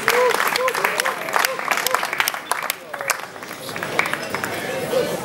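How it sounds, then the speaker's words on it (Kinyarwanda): An audience claps and cheers in a continuous crowd roar while someone talks loudly over it, with occasional sharper claps standing out. "mufashe mukoma amashi meza amashi arimo inguvu"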